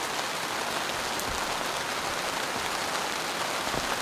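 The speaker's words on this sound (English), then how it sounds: "Wow, the rain. It's intense." Heavy rain drums steadily on a camping tent, a dense, even hiss of drops with a few louder pattering hits, close by and constant throughout with no voices.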